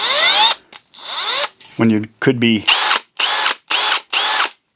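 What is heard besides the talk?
Milwaukee M12 cordless drill spinning up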